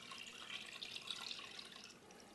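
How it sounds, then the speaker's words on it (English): Water pours steadily into a pot of chicken for soy sauce chicken, a constant hissing rush that eases slightly near the end, fairly faint, with no voices. "I'm going to fill it up until the water is just above the chicken"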